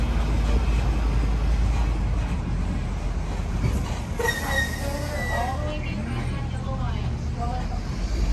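A parking lot tram at Magic Kingdom, Walt Disney World, rolls past with a low rumble and brief squealing wheel tones, set against steady outdoor background noise.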